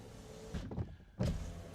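The electric window motor of a Peugeot e-208 drives the glass in a brief, quiet whir. The run is interrupted by a short pause, then ends with a soft thunk as the window stops.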